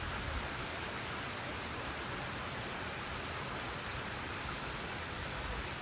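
Steady, dense rain patters down where a flock of ground doves bathes near an electric line, a continuous close hiss without a break and with no voices.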